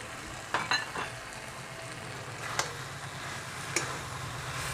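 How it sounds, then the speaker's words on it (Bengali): Fried prawns sizzle softly with taro in a pan for a Bengali prawn curry, a steady low frying hiss with a few light clicks of a spoon against the pan, close and with no talk. "এবার দিয়ে দেবো ভেজে রাখা চিংড়ি মাছগুলো।"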